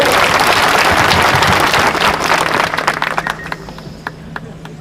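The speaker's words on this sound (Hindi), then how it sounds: "जोरदार ताली बजा के स्वागत करिए।" Loud welcoming applause from a crowd at a political party workers' meeting in Prayagraj, a dense roar of clapping that thins into scattered claps and fades over about five seconds.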